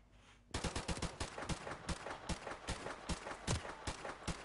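Rapid video game gunfire crackles in a dense burst of sharp shots after a brief quiet start, firing continuously in quick succession at moderate loudness with no talking.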